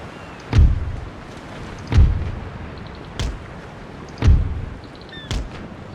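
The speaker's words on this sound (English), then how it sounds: "A spectacular explosion there." Ship explosions during a naval battle in the strategy game Empire: Total War: four or five heavy booming blasts spaced about a second apart, each a loud low thud with a crackling tail, with no talking.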